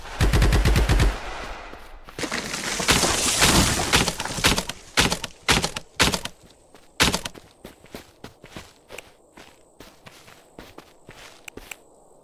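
Gunfire in the VR shooter Strayed, beginning with a loud rapid automatic burst, then a heavy roar, followed by a long run of sharp single shots and clattering impacts spaced irregularly, close and loud.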